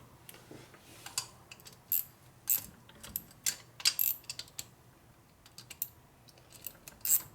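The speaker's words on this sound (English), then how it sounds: "bring these down to a light torque. Using your cross X pattern for tightening." Hand wrenching on the bolts of a 2001 Indian Scout's 88ci S&S big-bore Evo-style motor, brought down to light torque in a cross pattern, gives scattered light metallic clicks and ratchet ticks, close and quiet, with no talking.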